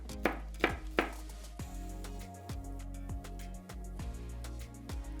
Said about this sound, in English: I chop up the garlic very fine